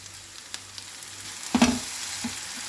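Onion with garlic and green chili paste hits hot mustard oil for an Odisha santula: a faint background hiss swells into a sudden close sizzle with stirring clatter, then settles back to a low fry.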